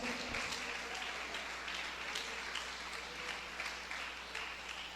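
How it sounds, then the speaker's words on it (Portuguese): Church congregation applauding joyfully, a steady dense wash of clapping that fills the room for several seconds, fairly loud and continuous with no talk over it. "aplaude a Jesus com muita alegria"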